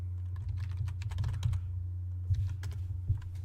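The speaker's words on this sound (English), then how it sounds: "Apparently I cannot type and talk at the same time." Typing on a computer keyboard, irregular bursts of light key clicks close by, pausing briefly midway before resuming, over a low steady hum.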